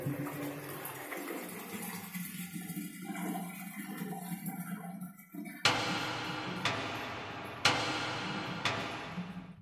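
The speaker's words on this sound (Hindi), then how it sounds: "और पानी चालू करता हूँ" Water flows steadily from a newly installed concealed flush cock, then louder gushing bursts start abruptly, with sharp surges recurring at intervals; close and continuous with no talk.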